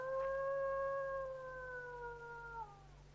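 Dogs howling at night on a country estate: one long, loud, wavering howl held for about three seconds and then sliding downward, over a steady low hum.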